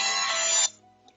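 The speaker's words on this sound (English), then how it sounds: "we got a phone ringing with a kitty sitting on it" A phone rings in Minecraft Java 1.16 with a cat sitting on it: one bright, steady electronic ring that cuts off abruptly after about two-thirds of a second, then near silence.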